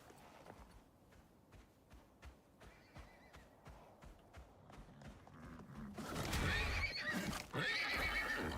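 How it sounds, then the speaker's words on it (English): A horse whinnies amid steady hoof clip-clops in the video game Icarus, then a louder burst of rushing noise takes over near the end; no talking. "Where did that neigh come from?"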